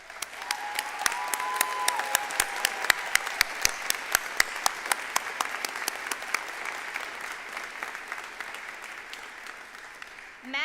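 Commencement audience applauds summa cum laude undergraduate graduates, steady sustained clapping from a large crowd in a hall with sharp individual claps standing out, fading gently toward the end.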